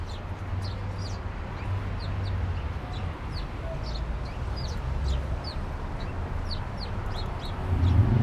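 Small birds in a little red birdhouse give quick repeated high chirps and twitters over steady outdoor city background noise, with a low rumble near the end.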